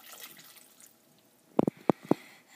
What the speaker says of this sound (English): Then we're going to add a ½ cup of water